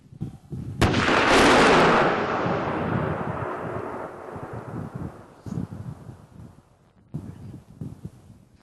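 A controlled blast detonation fires near a quarry or site, a sudden loud boom followed by a long rumbling roar and wind-like rush that slowly fades, with a few later thuds, no talking.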